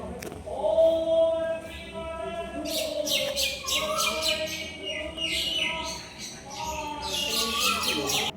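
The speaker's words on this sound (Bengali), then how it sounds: "সেই মন্দিরে ঘুরতে ঘুরতে আমরা প্রচুর পাখির শব্দ শুনলাম" Many birds chirping and calling at a temple in Arongghata, overlapping tweets and whistles near and far in a continuous chorus, with no talk.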